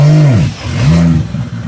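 A 2JZ-swapped Dodge Charger engine revs loudly and close up to pull away, with a rising-and-falling rev swell, a brief dip, then another climbing rev that settles into a steady drone.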